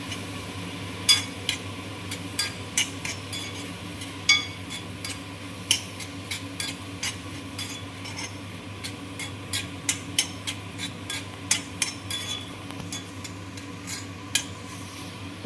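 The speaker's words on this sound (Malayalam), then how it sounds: "കുറച്ച് മഞ്ഞൾപ്പൊടിയും കുറച്ച് ഗരം മസാല അതെല്ലാം കൂടി ഇട്ടൊന്ന് നന്നായിട്ട് ഇളക്കി കൊടുക്കാം" A spoon scraping and clinking in a pan as turmeric and garam masala are stirred into a Kerala squid stuffing, with steady rhythmic taps over a soft sizzle.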